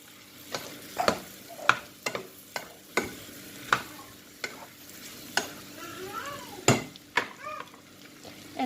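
Mushrooms being stirred in a hot cooking pan, a spoon scraping and knocking against the pan in irregular strokes over a soft steady sizzle, close up with no talking.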